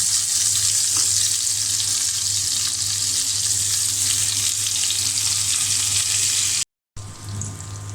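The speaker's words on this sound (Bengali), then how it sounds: "বেগুনের চপ ভাজি করব। তেল গরম হয়ে গিয়েছে, আমি এখন দিয়ে দিলাম।" Eggplant fritters for begun chop fry in hot oil with a loud, steady sizzling hiss that cuts out briefly near the end, then resumes; no speech.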